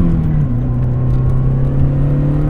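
Lancia Delta HF Integrale Evo I engine heard from inside the car, loud and steady, with the pitch stepping up briefly as it is given a small rev, with a rumbling low hum throughout.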